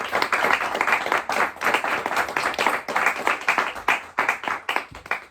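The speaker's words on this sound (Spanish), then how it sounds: "voy a aplaudir porque..." An audience applauds after a reading, many hands clapping steadily and fairly close for several seconds before tapering off at the end.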